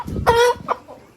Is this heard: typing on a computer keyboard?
no